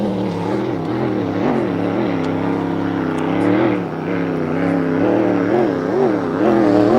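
Miss Merion, a vintage race boat, runs its engine on display at a Pateros boat event, a loud, steady, throaty drone with wavering pitch that swells and dips slightly throughout, close and continuous with no talk over it.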